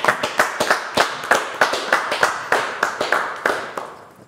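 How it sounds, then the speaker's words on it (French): Hands clap in a brisk, even rhythm for a singer, each sharp clap close and distinct, a steady run of about twenty that tails off slightly at the end. "On va l'applaudir quand même."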